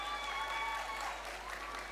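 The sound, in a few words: graduates applauding themselves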